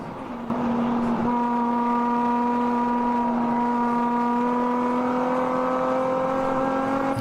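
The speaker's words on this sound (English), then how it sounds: "The car sounds great. Oh yeah, that beautiful Z motor." Race car with a Z motor running in a ChampCar Endurance Series event at the Joliet Grand Prix, a steady, droning engine note that rises gradually as it holds speed, heard alone without talk.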